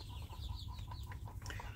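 Free-range village chickens, kept as brooding hens, cluck softly and intermittently at a distance over a steady low background hum, with no voices.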